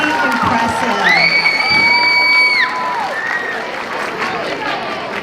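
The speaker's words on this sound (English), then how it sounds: "Let's give all of the participants, contestants, a big round of applause." An audience at a speech and debate event breaks into applause and cheering, with loud whistled whoops riding over the crowd noise before it gradually settles.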